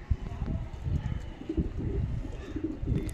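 Pigeons in a loft give soft, repeated low cooing calls in short rhythmic bursts, close by, with faint chirps in the background.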